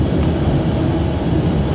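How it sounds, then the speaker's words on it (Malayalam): A train rolls along winding tracks in Romania, giving a steady, loud, close rumble of wheels and carriage noise throughout with no voices. "വളവും തിരിവുമുള്ള പാതകളിലൂടെയാണ് ട്രെയിൻ നീങ്ങിക്കൊണ്ടിരിക്കുന്നത്."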